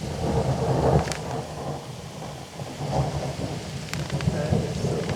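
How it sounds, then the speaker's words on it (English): Thunder rumbles through a steady heavy rain, with low rolling booms swelling and fading and rain hissing continuously on surfaces outdoors, no talking. "it is thundering and lightning out right now"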